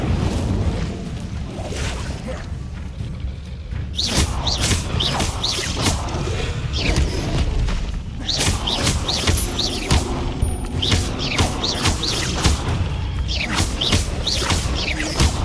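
An Incendio fire spell cast in the Hogwarts Legacy video game, heard as a series of sharp whooshing, booming bursts repeating at irregular intervals over a continuous rumbling in-game background, with no talking.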